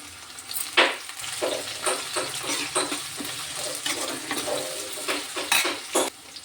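Onions, green chillies and soaked, washed fish frying in a pan, a steady close sizzle with occasional stirring and utensil scrapes against the pan.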